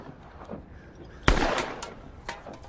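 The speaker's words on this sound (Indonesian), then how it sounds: "Borgi mengajak Calvin untuk latihan menembak dengan pistol yang Borgi curi dari ibunya." A single sharp pistol shot cracks out abruptly, followed by a short echoing tail, then a fainter pop a moment later against a quiet background.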